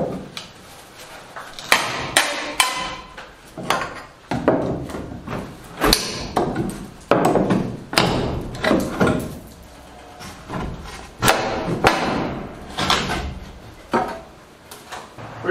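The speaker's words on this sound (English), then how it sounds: "We just said we take this door off." A door is taken off inside a pole barn, with a series of loud, irregular wooden knocks, scrapes and clunks repeating close by for the whole stretch, no talking.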